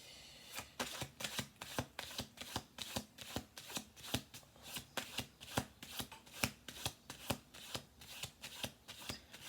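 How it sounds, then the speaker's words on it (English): Tarot cards are shuffled in a rapid, even series of crisp riffling snaps, close and clear, with no talking. "I'm going to do one more shuffle through."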